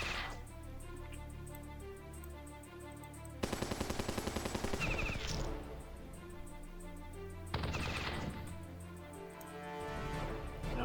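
Machine gun fire from a Battle Nations strategy game, with two dense rapid bursts cutting in over a steady background game soundtrack, each lasting a second or so.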